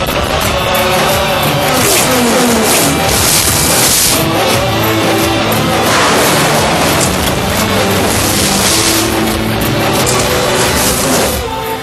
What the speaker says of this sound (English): Car accidents that were shot in the film.